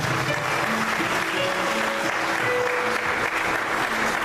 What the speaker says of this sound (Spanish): Denle un aplauso a Jesús esta mañana por eso.